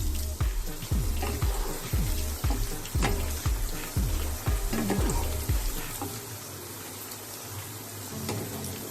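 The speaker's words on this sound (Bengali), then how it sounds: "এবার নেড়ে ছেড়ে এগুলোকে ভেজে নেব।" Chicken pieces for spicy chilli chicken frying in oil over a high flame, a steady sizzle broken by a regular run of scraping stirs in the first two-thirds, then a smoother, continuous fry.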